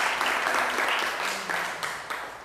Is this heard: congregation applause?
yes